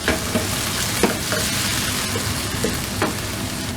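Chopped tomato sizzling in a hot pan for prawn curry, a steady close frying hiss with scattered sharp pops and occasional stirring scrapes throughout.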